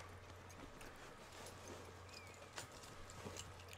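A horse in Red Dead Redemption 2 walks with a soft, faint clip-clop of hooves, steady and distant under a low background hum for a few seconds.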